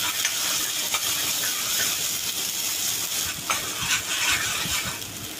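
Red masala and curry leaves fry in oil for egg curry, a steady bright sizzle and hiss throughout with occasional spatula scrapes and stirring taps, fairly close.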